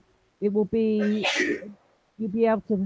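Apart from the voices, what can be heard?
sneeze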